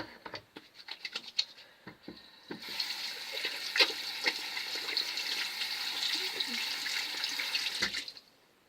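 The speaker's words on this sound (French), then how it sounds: "il faut que je me lave avec du savon parce que la brosse elle était collante" Running tap water splashes steadily into a sink while someone washes with soap, starting with scattered drips and rubbing before a sustained, moderately close stream that stops near the end.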